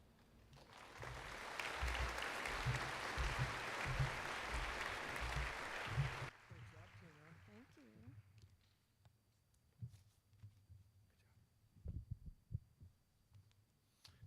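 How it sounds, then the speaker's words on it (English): Broad crowd applause for guests, honorees and students at a high school summa cum laude graduation ceremony, loud for about six seconds and then cutting off abruptly into quiet room noise with a few scattered sounds. "How about a big round of applause for all of our guests, honorees, and students?"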